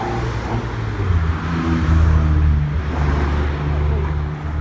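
A Toyota 86 with heavily cambered, splayed wheels drives past near a parking area by a mountain-trail station, giving a steady low engine rumble that swells and holds close by, with brief talk nearby.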